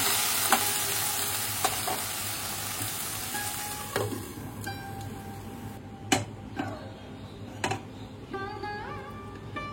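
Water is poured over vegetables cooking in a pan, leaving a soft simmering sizzle with intermittent sharp clicks and clinks of a utensil against the pan, close and fairly quiet, with no voices.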